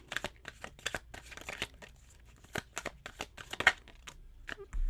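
A tarot card is drawn from the deck with soft papery crinkles and a string of quick shuffling flicks, close and fairly quiet, with no talking.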